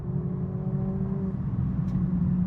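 A Mercedes-Benz A45s, a 310 kW small hatchback, driving in Sport Plus mode, a steady loud engine drone heard from inside the cabin with a brief rising tone early on.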